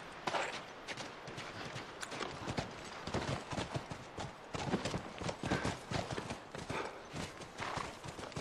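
Horse hooves clip-clop on a ranch in The Last of Us on PlayStation 3, a steady run of close, crisp hoofbeats with uneven rhythm, moderately loud and with no talk over them.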